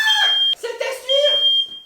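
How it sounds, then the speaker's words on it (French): A shrill smoke alarm beeps in sustained high tones at the start and again in the second half, loud and close, while excited voices talk over it. "Y'a l'alarme!"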